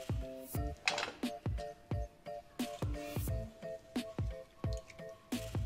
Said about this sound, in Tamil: தண்ணியை கொஞ்சம் லைட்டாக புளிஞ்சு எடுத்துட்டு ஈரப்பதம் இல்லாமல் கொஞ்சம் இதாக வைக்கிறோம்.